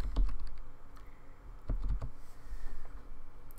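Several short bursts of keystrokes on a computer keyboard while setting up Windows 8 Remote Assistance, close and moderately loud, separated by brief pauses.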